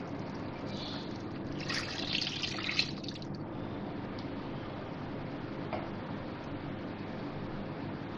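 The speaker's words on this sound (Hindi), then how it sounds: "अब मैं इसमें पानी डाल रही हूँ" Water poured into a pot of beef nihari being cooked in a home kitchen, a steady soft trickle and splash continuing for several seconds, close and alone.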